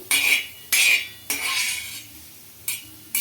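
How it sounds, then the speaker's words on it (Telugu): A spatula stirs small bitter gourds in a pan with no oil, making four distinct scraping clinks at a slow, even pace that stand out clearly against a quiet background. "కొంచెం తడి ఆరినట్లయితే మనము ఇలా కలుపుకోవాలన్నమాట"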